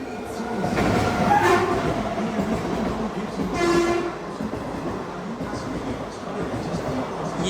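An empty train rake runs through Peddapalli Junction station with a continuous rumbling roll, punctuated by two loud horn blasts a couple of seconds apart.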